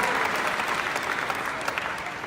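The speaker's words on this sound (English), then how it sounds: "Give yourselves a round of applause." An audience at a motivational talk by Les Brown applauds steadily for about two seconds, a dense, close wash of clapping that fades slightly toward the end.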